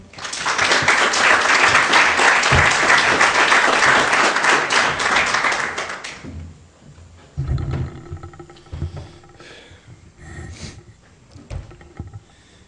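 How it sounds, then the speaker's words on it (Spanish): An audience applauds after an introduction at a book launch for an arbitration law collection, a loud, dense burst of clapping lasting about six seconds, then fading into quiet room noise with faint scattered sounds. "Un aplauso, por favor."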